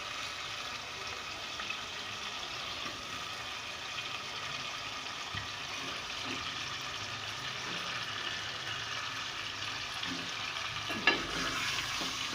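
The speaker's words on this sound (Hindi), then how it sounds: "और जब तक कलर चेंज नहीं होता चिकन का तो हम इसे भूनेंगे" Chicken for a korma sizzles and fries in a pot with steady, loud crackling throughout, while a spoon occasionally stirs and scrapes through it, with no talking.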